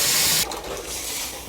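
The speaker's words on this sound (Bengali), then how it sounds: "জল দিয়ে দেবো।" Water poured into a hot pan of bete shak and potato curry sends up a sharp, loud burst of spitting hiss that cuts off and settles into a quieter bubbling sizzle.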